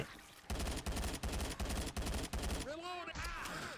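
Rapid automatic gunfire from the zombie shooter Left 4 Dead, loud and close in evenly spaced bursts for about two seconds, then giving way to warbling, swooping electronic tones.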